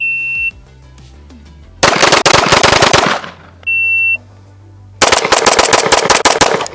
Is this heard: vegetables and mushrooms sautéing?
no